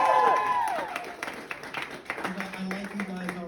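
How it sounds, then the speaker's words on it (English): Scattered applause from a stand-up comedy show audience, moderate and somewhat distant, with voices and crowd murmur running underneath. "Let's give applause, first of all, to the first half."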